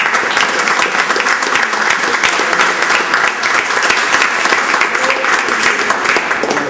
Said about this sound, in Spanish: Y otro aplauso bien grande al maestro y a las nietas que están aquí con nosotros.